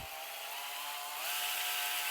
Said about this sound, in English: we're going to drill our holes